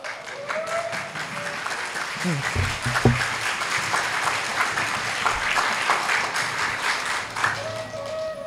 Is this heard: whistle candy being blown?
no